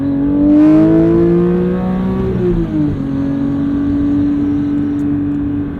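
The flat-six engine of a manual Porsche 992 911 GT3 revs hard under acceleration, rising in pitch, dropping briefly at a gear change, then climbing again, loud and continuous from inside the car.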